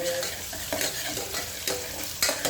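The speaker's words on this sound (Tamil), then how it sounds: "நல்லா வதக்கிக்கோங்க." Onions sautéing in a pan for tomato rice, a continuous close sizzle broken by repeated scraping and stirring strokes of a spoon at irregular intervals.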